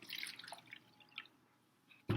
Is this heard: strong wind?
no